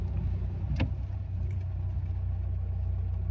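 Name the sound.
car traffic after Easter mass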